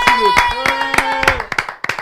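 A crowd claps in quick, scattered bursts under music and voices at a fight show event, and the applause thins out toward the end.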